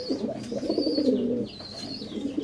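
Pigeons coo in soft, throaty rolling phrases at close range, with the cooing repeating and overlapping for a couple of seconds and a faint chirp above it.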